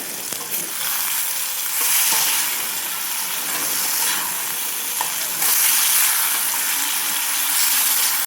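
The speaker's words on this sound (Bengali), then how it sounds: "আলু ওইদিকে ভাজা হোক" Potatoes fry in a pan in a village kitchen. A loud, steady sizzle and hiss runs throughout, with occasional scraping stirs, and no one talks.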